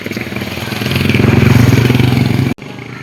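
A Kawasaki motorcycle engine revs up loud and close, its tone rising into a steady throb before cutting off abruptly, then picking up again briefly.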